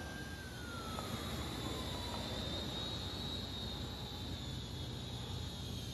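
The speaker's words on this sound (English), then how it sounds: "It's a great flying little drone." A small SYMA X600 foldable drone flies at night, giving a steady high whine with a faint tonal sweep that holds on continuously against a broadband hiss, with no talking.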